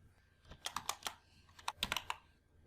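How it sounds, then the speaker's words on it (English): Keys on a computer keyboard clack in two short bursts of several quick, close presses each, with brief quiet between them. "press tab key."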